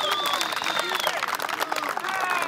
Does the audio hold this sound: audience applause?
yes